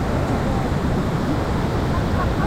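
Rushing monsoon floodwater swollen by heavy rain, roaring as a dense, continuous broadband wash up close, with wind buffeting the microphone throughout.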